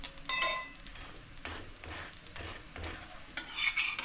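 Methi rotlo, a fenugreek flatbread, frying in oil on a pan, giving a continuous sizzle with repeated scraping and stirring strokes, close and fairly loud.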